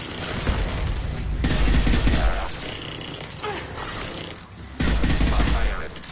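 Dense, continuous gunfire and explosive bursts fill a Mass Effect 2 firefight, loud and sustained, with grunts and voices mixed into the chaotic battle noise.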